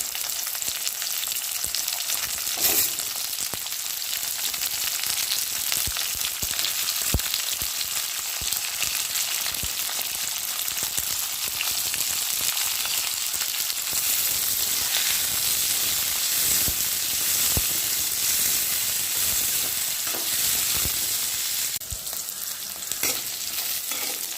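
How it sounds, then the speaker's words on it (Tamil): Ivy gourds fry in oil with a loud, continuous hissing sizzle throughout, broken by occasional stirring knocks and scrapes. "கோவக்காயை எண்ணெயில் போட்டு நல்லா வறுத்து எடுத்துடலாம்"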